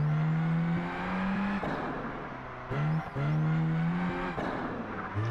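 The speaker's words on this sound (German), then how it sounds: "Der Turbo sonst ist auf jeden Fall sehr laut." Turbocharged race car engine in the video game Project Gotham Racing 4, revving and shifting through gears with a loud, steady drone and several abrupt pitch drops, tire noise under it and no talk.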